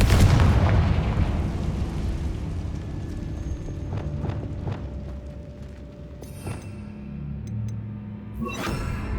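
Confringo fire spell in Hogwarts Legacy gameplay bursts with a loud booming blast that rumbles and fades, followed by a few sharp impacts and crackling pops.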